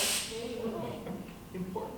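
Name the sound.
roach spray being sprayed at a wolf spider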